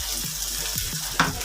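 Dried fish frying in a pan sizzles in a steady hiss, with a few soft stirring scrapes at a slow, uneven rhythm and one sharper pop near the end. The sound is close, and no one speaks.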